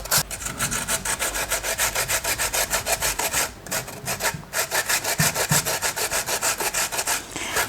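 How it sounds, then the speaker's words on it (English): Tomato being grated on the fine side of a kitchen grater, a continuous rhythmic rasping of quick back-and-forth strokes, close and steady, briefly pausing twice, with no voices. "go ahead and grate the tomato as well"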